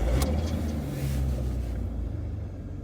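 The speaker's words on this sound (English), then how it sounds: "We'll start the car." A car engine cranks briefly and settles into a steady, low idling rumble close by, with no other sounds.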